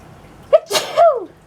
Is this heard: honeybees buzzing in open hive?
no